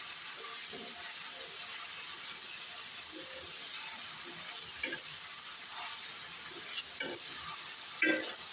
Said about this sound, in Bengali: এখন সব উপকরণ ভালোভাবে মিশিয়ে কষিয়ে নিব ভালোভাবে।